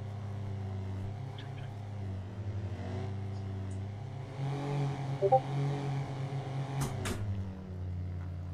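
Video game car engine driving and accelerating in Martinique RP, a steady low drone with rising revs midway, a few clattering knocks near the end, no talk.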